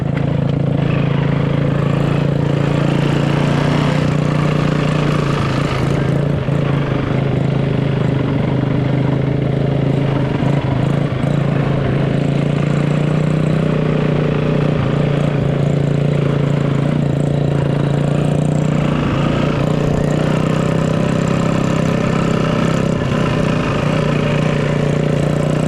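A dirt bike engine drones steadily and loudly close by, a continuous buzzing motor note that holds throughout with little change, as a kid rides and works through the gears.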